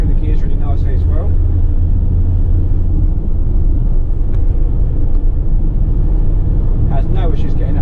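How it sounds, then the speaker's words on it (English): A 2016 Ford Transit medium-wheelbase tipper truck with a six-speed gearbox accelerates from inside the cab, a steady loud engine rumble with gear-change shifts, under brief bits of talk. "Has a really nice acceleration, it shifts through the gears really nicely as well."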